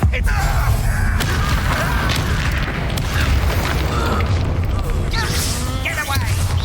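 Bombarda spell explosions in the video game Hogwarts Legacy, loud booming blasts and crashes in a dense, continuous mix of game effects with a voice shouting spell names over them.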